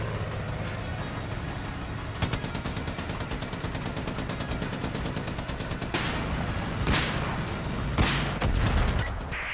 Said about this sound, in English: Ooh, rocket hit.